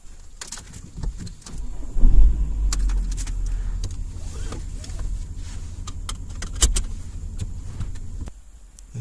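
A 2001 Y-reg VW Golf is heard close up, with a moderate low vehicle rumble, clicks and clunks of handling around the car, and a brief whirring like a power window.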